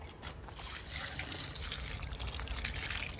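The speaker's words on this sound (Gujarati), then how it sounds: "રાવણું આવ્યો રાવણ નાખી દઉં પાણી" Water from a bucket splashes and trickles steadily into a cattle trough, a soft continuous pouring sound heard fairly faintly.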